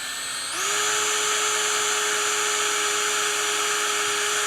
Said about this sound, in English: Drill all the way through.